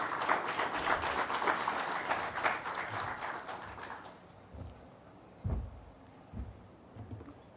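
Audience applause at a Transit Oriented Development workshop, a dense round of clapping for about four seconds that then thins and fades, leaving a few scattered thumps and room noise.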